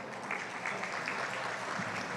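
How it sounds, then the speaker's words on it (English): Warm audience applause at an annual awards gala, a steady wash of many hands clapping at moderate distance, unbroken for a couple of seconds. "a warm applause, please."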